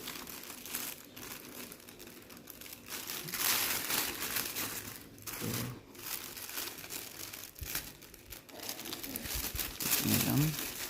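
Crinkly plastic wrapping is torn and crumpled open on an AliExpress parcel, producing irregular close bursts of crackling and rustling that swell and fade, with a few faint background noises in between.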